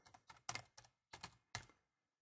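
Keys on a computer keyboard are struck in a few quick clusters of clicks, close and crisp, with short pauses between bursts and no talking.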